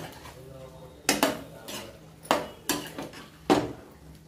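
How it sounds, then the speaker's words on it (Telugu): Brinjal cashew fry tossed and mixed in a pan, with four or five sharp metallic clanks and scrapes of the pan and ladle over a quiet background, no talking. "ఎగరేసుకుందాం, కలుపుకుందాం కదా."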